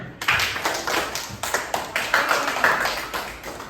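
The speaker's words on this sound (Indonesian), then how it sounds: "Kalau menyenangkan, tepuk tangan." Children in a classroom clap their hands in a quick, loud, fairly rhythmic burst of separate claps, close to the listener, with no talk over it.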